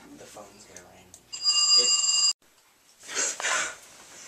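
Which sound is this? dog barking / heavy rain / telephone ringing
telephone ringing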